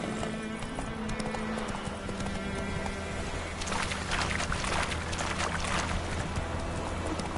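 A horse's hooves clip-clop in a steady rhythm in the video game The Witcher 3 on PS5, mixed with ambient game sound and rising slightly louder partway through.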